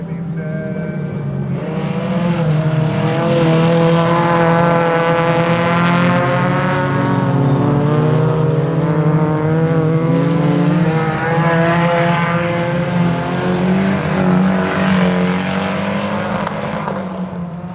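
Folkrace cars race around a track over three laps, several engines roaring together in a loud, continuous drone that rises and falls as they pass and accelerate.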